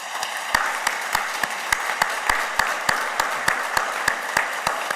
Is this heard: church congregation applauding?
yes